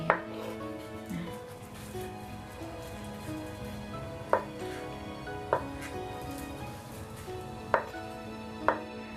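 Mustard greens (sawi) chopped with a knife on a board: a few sharp, isolated thunks spaced irregularly over a low kitchen hum, close and distinct.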